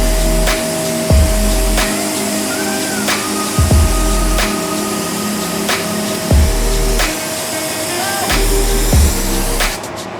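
A steady, loud hiss of a spray gun applying pearl paint to a Subaru 22B clone runs throughout, with a low machine hum underneath and short thumps recurring every couple of seconds.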